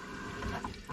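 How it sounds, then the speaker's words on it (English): Water running through a newly connected poly pipe feeding a fridge ice-maker line, a steady close hiss and gush with no talking. "Water runs."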